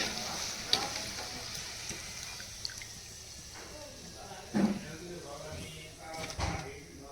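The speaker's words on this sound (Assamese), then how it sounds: "এইখিনি ধুনীয়াকৈ কাটি লৈ এতিয়া ভাজি আছোঁ, আৰু কম জুইত ভাজিছোঁ" Homemade nimki fry gently in oil over a low flame, giving a quiet, steady sizzle broken by a few soft clinks and bubbling pops.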